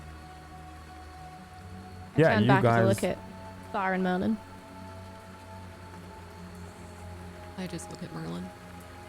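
Steady rain falls outdoors as a constant soft hiss throughout, while people talk in short bursts over it.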